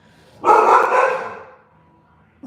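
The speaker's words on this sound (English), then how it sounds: "What are you barking about?" A single loud dog bark up close, one sustained, drawn-out yelp that trails off into quiet.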